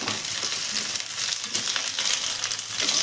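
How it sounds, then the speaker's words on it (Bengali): Flat beans fry lightly in a pan for Bengali sim bhapa, a steady close sizzle with faint crackle and soft stirring running unbroken and even throughout. "শিমগুলো আমার হালকাভাবে ভাজা হয়ে গেছে"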